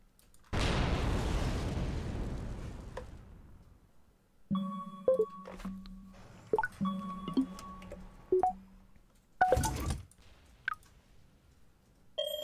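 Missile launches in the video game ICBM: a loud roaring whoosh that swells and fades over a few seconds, followed by sparse interface clicks, beeps and a couple of sharp pops.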